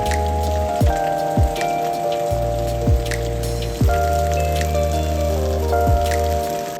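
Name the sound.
rain splattering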